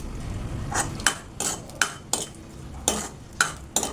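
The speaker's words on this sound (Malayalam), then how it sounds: "കൊപ്പരത്തേങ്ങ കുറച്ച് അണ്ടിപ്പരിപ്പ് കൂടെ ഇടാം." Dried coconut pieces and cashews go into a cooking pan for an Onam vegetable payasam, giving a series of sharp clattering hits and scrapes about every half second over a low frying hiss, with no talking.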